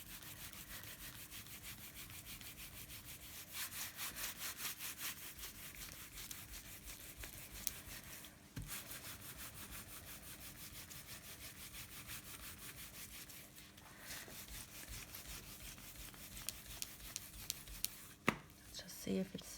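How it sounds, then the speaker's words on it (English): Paper being hand-rubbed onto an inked linocut block during reduction printing: a steady, close, dry scratchy rubbing that runs continuously, with slight surges in intensity and a few sharper scuffs near the end. "it's transferring, and it's transferring with a little bit of a texture. That's very normal for the hand rubbing."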